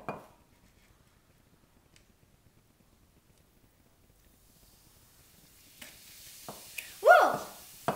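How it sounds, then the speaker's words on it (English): Vinegar poured onto baking soda in a toy volcano, a short pour followed by a sudden burst of fizzing and bubbling near the end, quiet and close after a long near-silent stretch. "I put a little baking soda in here already. Now I'm going to put some vinegar in."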